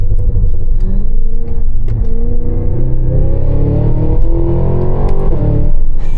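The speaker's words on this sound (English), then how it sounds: "Floor the brake, floor the accelerator, and off we go." Cadillac Escalade V launching hard from a standstill, its engine roaring loud and close as it revs up through the gears with a steady, rising pitch.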